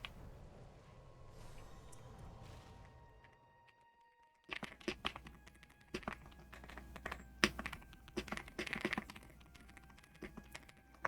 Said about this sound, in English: Sorry for the loud keyboard. I just got a new one.